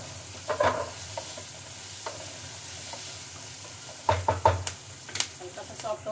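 Green chillies with turmeric and cumin sizzle in a pan for a yogurt and gram flour chilli sabzi, with a steady frying hiss and a few clanking stirs of a spoon against the pan, and speech now and then.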